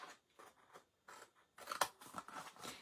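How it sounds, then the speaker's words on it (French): Scissors snip through a cardboard box in a quiet, rhythmic series of short crunchy cuts, close by and alone. "Sans couper le petit carton, on va juste poursuivre la coupe"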